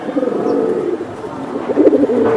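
Silver giribaz pigeons coo in a continuous low, throaty burble, close and fairly loud, with many birds overlapping.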